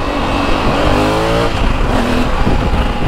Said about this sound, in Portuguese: Muito carro, mano.